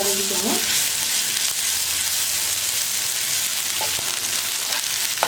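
Onions sautéing with ginger garlic paste in a pan make a loud, steady frying sizzle, with a few brief stirring clinks near the start and toward the end.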